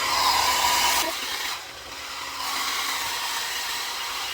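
A handheld hair dryer runs on its heat setting while drying hair, a steady loud broadband whoosh whose tone shifts and dips briefly as the airflow is moved around, continuing without speech.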